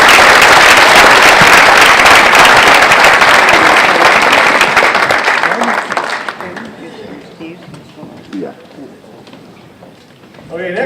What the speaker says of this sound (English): Big round of applause for these people.